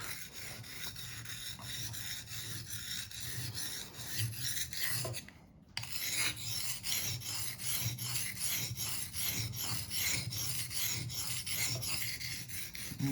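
A knife is sharpened by hand on whetstones, its blade rasping back and forth in a steady rhythm of close, gritty strokes that continue throughout, broken only by a brief pause midway.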